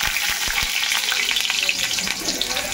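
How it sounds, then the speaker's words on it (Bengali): Potatoes frying in a generous amount of hot oil give a dense, bright, continuous sizzle close up, with a few quick knocks of stirring at the start and no talking. "আলুগুলো প্রথমে ভেজে নেব।"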